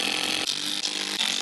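A power driver sinks Forge Fix 5x20 screws into a tablesaw base during a restoration, giving a loud, close, high-pitched whirring burst with brief dips as each screw seats.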